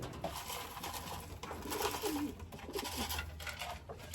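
Pigeons in a loft coo softly and intermittently over a low background hum, with a faint rustle near the end and no talk.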